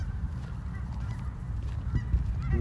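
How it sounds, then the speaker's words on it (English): Several geese honk continuously at close to moderate distance, a loud, steady chorus of overlapping calls over a low rumbling background. "They look like a bunch of thug geese."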